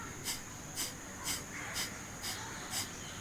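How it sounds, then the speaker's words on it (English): Six forceful exhalations come through the nose at an even, rapid pace during a yoga breathing exercise. Each breath out is a short, sharp, close-up whoosh over a quiet background, and no inhale is audible between them. "You only hear sound of breathe out, not the breathe in."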